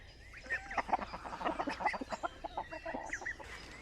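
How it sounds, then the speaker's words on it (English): A rooster and other chickens cluck and crow close by in a farmyard at feeding time, a busy run of short overlapping calls with no talk. "that rooster goes towards wherever I throw it"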